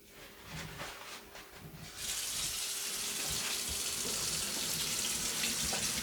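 Kitchen tap gushing into a sink while a cutting board is washed, starting after a few soft handling sounds and then running as a loud, steady hiss of water close by.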